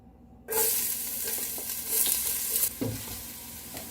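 Garlic dropped into hot olive oil bursts into a loud sizzle that holds steady, with scrapes of stirring over the frying hiss.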